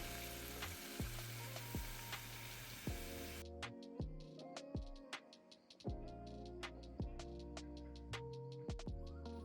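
Onions and garlic sizzle in a tablespoon of butter, a soft, fairly quiet frying hiss that drops away partway through, with tonal background music throughout and no talking.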